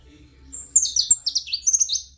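A Terra canary (canário-da-terra) in a new cage sings a close, bright series of quick chirps and trills over a quiet background, with no talking.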